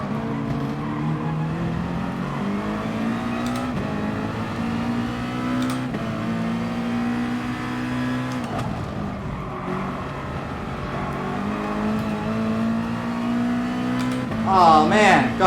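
A race car engine in GT Sport revs up and drops at each upshift while racing at Barcelona, a continuous loud whine climbing through the gears.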